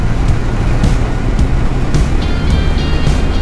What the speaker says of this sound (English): Shut that vent up if it's making too much noise.